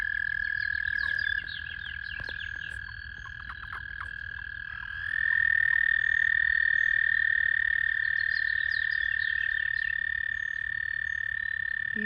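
A spring chorus of frogs sings and croaks steadily, with one loud, near trilling call holding throughout over a dense low background and other callers layered in, no voices.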